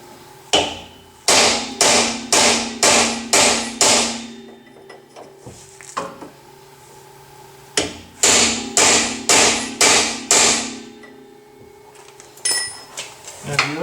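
Hammer blows strike a 2009 Toyota Corolla rear hub bearing in two rapid bursts of about six hard, ringing metallic hits each, with a few scattered single knocks between them.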